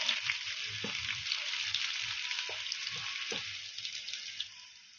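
Finely chopped onion sizzles steadily in hot oil with mustard seeds and cumin over a medium flame, a bright continuous crackle with a few soft stirring knocks, fading slightly at the end.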